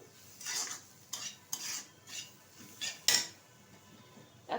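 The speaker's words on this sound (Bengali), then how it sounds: "এখন দিয়ে দেবো এখানে যে ভেজে রেখেছি ড্রাই ফ্রুট সেগুলো দিয়ে দিলাম মিশিয়ে নেবো ভালোভাবে" Chana dal mohanbhog being stirred in a pan with a spoon, as fried dry fruits are mixed in. A few distinct scrapes and clinks of utensil on metal come up close with a soft background hiss, and nobody talks.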